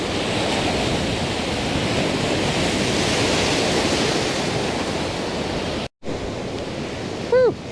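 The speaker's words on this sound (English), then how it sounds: "That was a big wave." A large ocean wave surges and crashes onto the shore at Talisker Bay, a loud, sustained roar of surf that fills the whole stretch, briefly cutting out before the wash continues, with a short voiced exclamation near the end.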